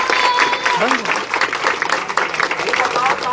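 Sustained crowd clapping at an outdoor election rally in Aurangabad, Bihar, loud and continuous, with voices and crowd noise mixed into the applause.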